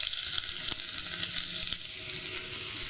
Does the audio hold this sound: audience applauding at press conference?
no